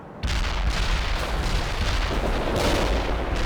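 An artillery strike in the war game World in Conflict: a sudden loud roaring barrage of explosions that keeps rumbling continuously, dense and close, with no talk over it.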